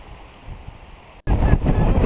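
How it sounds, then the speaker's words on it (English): Wind blowing in the French Valley of Patagonia: a low rumbling gust that starts softly, cuts out briefly, then returns as a loud, buffeting roar close against the microphone. "Here's a little bit of wind up in the French Valley area."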